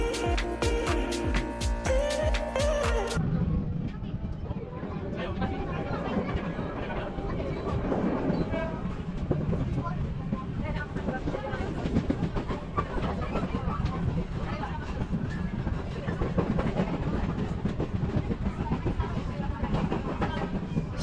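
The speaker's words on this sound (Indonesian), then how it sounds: "Di beberapa titik, kereta melintasi jalan raya yang ramai" Surabaya commuter train running on rails, a steady close rumble with clattering wheel noise throughout, opening with a brief burst of tonal sound before settling into continuous rolling carriage noise.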